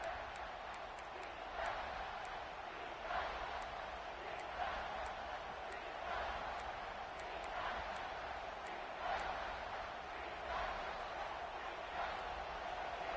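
Stadium crowd in a college football video game, Oregon against South Carolina, a constant roar that swells and dips in waves, with short repeated clicks on top.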